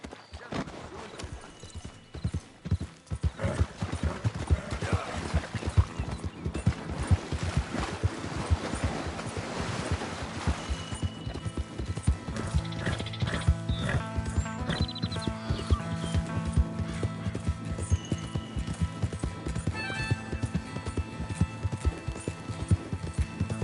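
Horse galloping with steady rapid hoofbeats and an occasional neigh in the video game Red Dead Redemption 2, loud and continuous under game sound effects.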